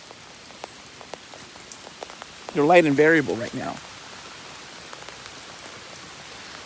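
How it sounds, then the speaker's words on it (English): Big, fat drops of lake effect rain patter steadily on a surface throughout, with someone speaking briefly in the middle over the continuous rainfall. "These are big drops of rain coming down. I mean, these are big, fat drops of rain."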